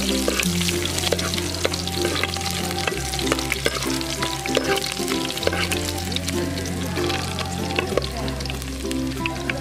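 Continuous, dense sizzling of shallots frying in hot oil, loud and close, with a low steady hum of background music underneath.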